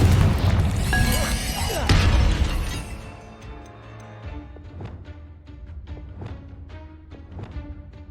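In Hogwarts Legacy, the Confringo spell goes off as a loud, booming explosion with a shattering burst, then fades into scattered crackling debris and sharp impacts that trail away over several seconds.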